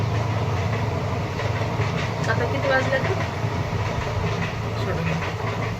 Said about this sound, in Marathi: रेल्वे चाललेली आहे